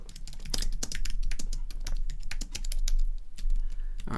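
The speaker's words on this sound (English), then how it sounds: "All right, and you start typing." Fingers type rapidly on a computer keyboard, close up, in a dense run of sharp key clicks with short pauses and no talking.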